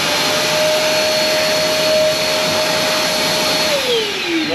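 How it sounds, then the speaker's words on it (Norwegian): A vacuum cleaner whines steadily aboard a sailboat, a loud continuous drone with a high motor tone that drops in pitch near the end as it begins to wind down. "Jeg er så glad for at vi tok med den støvsugeren på tur, altså."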